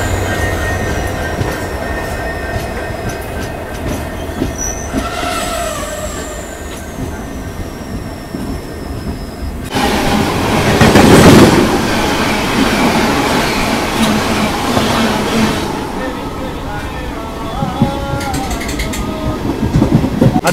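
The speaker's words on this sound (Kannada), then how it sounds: "ಇದು KSR ಬೆಂಗಳೂರಿಂದ ಶಿವಮೊಗ್ಗ ಟೌನ್ಗೆ ಹೋಗುವ ಜನ್ ಶತಾಬ್ದಿ ಎಕ್ಸ್ಪ್ರೆಸ್ಸು." The Jan Shatabdi Express from KSR Bengaluru to Shivamogga Town rolls past close by, with loud rumbling wagons, squealing wheels and a clattering surge of noise through the middle.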